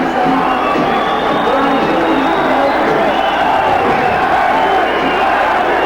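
Boxing crowd at the 1983 Larry Holmes vs Lucien Rodriguez fight, a dense continuous roar of cheering and shouting that fills the whole stretch at high level, with chanting for Larry Holmes blended into the din.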